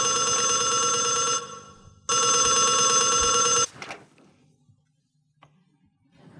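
A telephone rings loudly and close, two long bursts of electronic ringing separated by a short gap, followed by quiet handling sounds as it is picked up.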